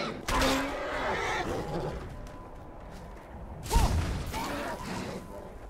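A horse in the video game Skyrim lets out a loud whinny, then a second sharper neigh follows with a thud, over faint game background noise.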